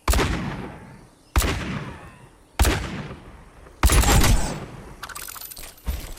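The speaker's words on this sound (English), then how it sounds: "use your fanfire, but stop at like maybe 3 or 4 shots" Revolver shots from fan the hammer in Overwatch: four sharp, loud gunshots spaced about a second apart, each ringing out and decaying, followed by a burst of rapid mechanical clicks and another shot at the end.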